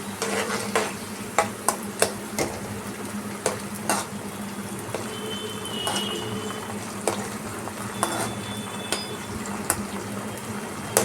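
Ginger garlic paste frying in a pan for pav bhaji, with a steady sizzle under repeated clinks and scrapes of a spoon stirring against the metal, close and fairly quiet.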